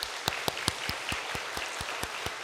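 A church congregation claps in honour of its teachers during a Korean Sunday sermon, heard as sparse, fairly distinct claps arriving at a loose steady rhythm, moderately quiet and without talk.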